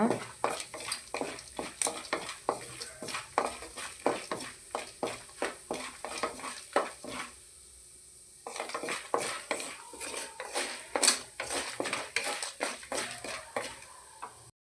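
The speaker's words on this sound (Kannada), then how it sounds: "ಇದನ್ನು ಫ್ರೈ ಮಾಡ್ಕೊಳ್ಳೋಣ" Mustard seeds and ingredients fry on low heat in a pan for coriander leaf puliyogare, with a soft sizzle under rapid, repeated clinks and scrapes of a spoon against the pan and a short pause midway.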